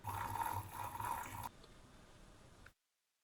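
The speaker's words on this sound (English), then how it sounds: "Now the first step is to pour down the drain some boiling hot water." Half a litre of boiling hot water poured down a kitchen sink drain: a steady gushing splash for about a second and a half, then a softer draining trickle before it stops, with no talking.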